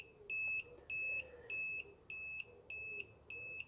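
A battery-powered sensor device on a homemade mobile chicken coop emits six evenly spaced electronic beeps, each about a quarter second long, clear and close with no talking.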